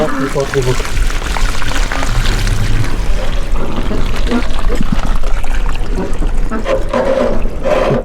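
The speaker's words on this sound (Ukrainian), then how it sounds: "Зливаємо воду, відкриваємо внизу." Water pours and splashes steadily from a motor pump being drained, a continuous gushing drain with some metallic clatter, while someone talks over it nearby.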